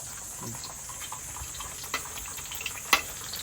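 Longganisa sausages fry in a pan with a steady, faint sizzling hiss. A few sharp clicks and taps of a utensil stand out against it.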